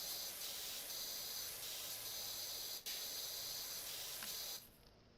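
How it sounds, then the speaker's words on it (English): Pressure washer in Powerwash Simulator spraying as a steady, loud hissing jet, briefly interrupted near the middle, then cutting off at the end to leave a quieter background hiss. "You can just push one button and it adjusts the width of the spray."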